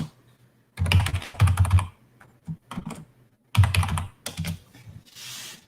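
A computer keyboard clatters close up during a livestream, in several dense bursts of rapid key presses separated by short pauses, followed by a few lone taps and a soft hiss at the end.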